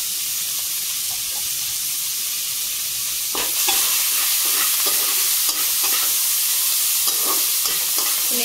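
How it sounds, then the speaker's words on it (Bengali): Taro greens and prawns sizzle steadily in a frying pan with green chilies, a broad hiss running throughout while scraping stirs grow louder and more frequent in the second half, each one a short clatter over the frying. "নেড়ে চেড়ে নেব।"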